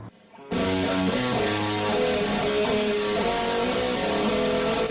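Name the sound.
guitar through virtual amp and cabinet emulator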